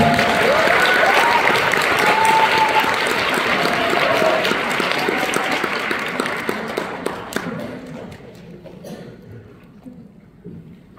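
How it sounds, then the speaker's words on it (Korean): An audience at a product and business presentation breaks into steady applause, loud at first and then thinning out, with scattered individual claps toward the end before fading away. "저 박수 한 번만 쳐주시면 안 될까요?"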